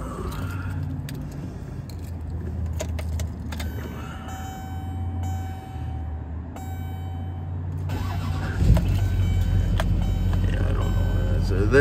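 A 2006 Chevrolet Silverado 2500 with the LBZ Duramax diesel cranks and fires up after a period of quiet cabin noise, then settles into a loud, steady diesel idle.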